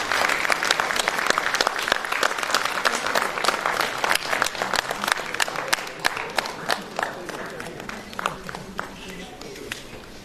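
Audience applause during a memento presentation at the AHPCON-2016 conference at AIIMS Delhi, dense clapping from a crowd that gradually thins toward the end.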